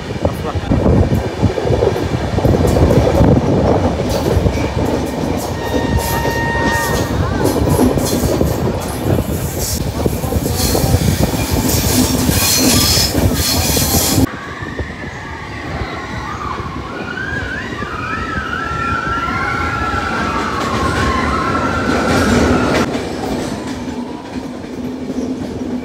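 A passenger train runs on the mountain line from Visakhapatnam to Araku Valley, a loud, close, continuous rumble and clatter of wheels on rails, dropping to a softer steady roll halfway through, with voices mixed in.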